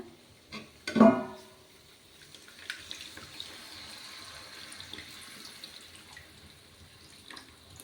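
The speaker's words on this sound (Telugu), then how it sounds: "చింతపండు పులుసు పోసుకున్నాం కదా ఇప్పుడు తగినన్ని నీళ్ళు వేసుకున్నాము" Tamarind juice is poured into a fish curry in a pot, with a brief splashing gush followed by a soft, fading trickle and light bubbling.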